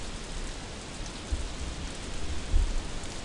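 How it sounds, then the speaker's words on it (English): Steady rain in a video game fishing scene, a soft continuous hiss with a couple of low rumbling swells, no voices. "I'm fishing in the rain?"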